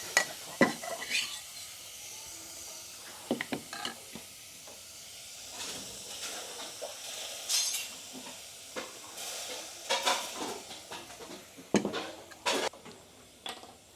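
Pork sizzles in a hot pan while a utensil scrapes and stirs in repeated clanks, close and fairly quiet.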